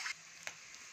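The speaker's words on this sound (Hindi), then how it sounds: "तड़का लगा दे रही हूँ लहसुन और मिर्ची का" Garlic and chili fry in hot mustard oil for a tempering, a continuous close sizzle with a few brief pops and crackles.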